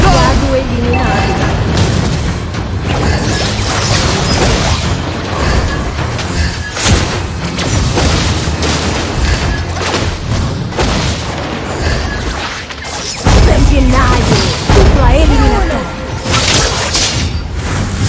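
Explosions boom repeatedly in a mobile battle game played on an emulator, with heavy thuds and crashes layered over music, effects and a character's voice lines throughout.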